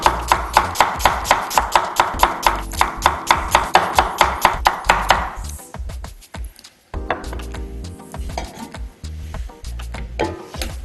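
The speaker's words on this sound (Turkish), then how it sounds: "Öncelikle kuru soğanlarımızı doğrayıp tencereye alacağız" Steady knife chopping of dry onions on a cutting board, rapid regular thuds for several seconds, then fainter irregular handling and scraping sounds.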